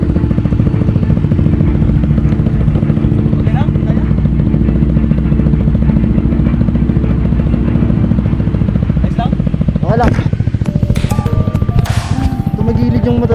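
A motorcycle climbs a rough, steep dirt road up a mountain in Bulacan, its engine droning steadily and loudly with rattling and clattering; a voice says one short word near the end.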